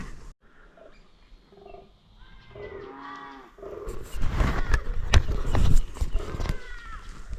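Deer grunting during the autumn rut, a series of low guttural calls rising to louder bursts in the second half, with scraping and rustling nearby outdoors.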